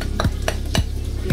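Garlic frying in a pan for buttered garlic kingfish, a steady sizzle broken by three or four quick stirring scrapes and clinks of a utensil, close and without talk.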